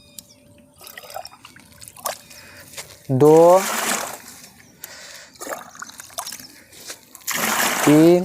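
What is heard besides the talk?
water being poured into a tank for spray solution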